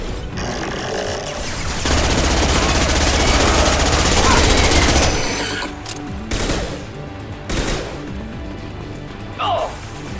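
Loud, dense gunfire-like burst from an impact shot in the video game Mass Effect 2, sustained for a few seconds with heavy low rumble, then fading into scattered game sounds and a brief voice.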